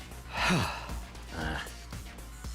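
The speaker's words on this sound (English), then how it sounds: "Gaku started breathing heavily as he shut me down." A character in the video game The Hundred Line: Last Defense Academy breathes heavily, with two loud, ragged gasping breaths close up and a quieter exhale after.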